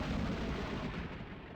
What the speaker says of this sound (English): The sound of a monstrous explosion rang out